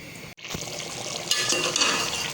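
Steady bubbling and hissing of a pot of chicken curry simmering on high flame on the stove, continuous and fairly close after a brief silence at the start.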